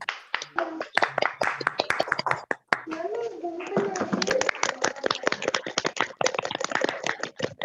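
Online audience clapping over an unmuted video call after an academic number theory talk, a scatter of sharp irregular claps from several participants, with a voice speaking and a voice briefly heard underneath.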